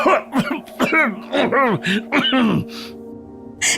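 A man coughs in a rapid series of harsh, hoarse bursts, close and loud, ending with a strained breath.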